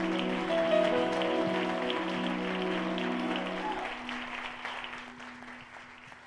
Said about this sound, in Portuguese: Com suas palmas, louva o Senhor essa noite.